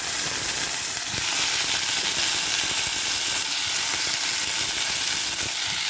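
Onions and spices, including fennel seeds and chillies, hit hot oil in a pan for a murungakkai (drumstick) curry, giving a loud, steady, close-up sizzle and fry hiss throughout with no talking.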